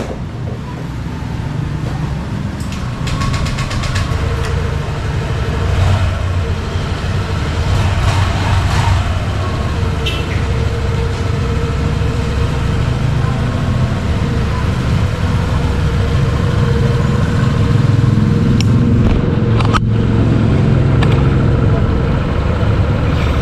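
A 2023 Honda Click 125 V3 Limited Edition scooter engine runs at a steady idle, a continuous low mechanical hum with faint ticking, under background chatter from people nearby.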